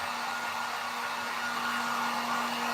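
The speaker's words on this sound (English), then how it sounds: "Now you don't want to keep the heat gun in the same spot for too long because it'll make it start to dry faster than the rest." Heat gun blowing hot air over an epoxy resin countertop in a van build, a steady, loud whooshing roar with a constant hum running unbroken throughout.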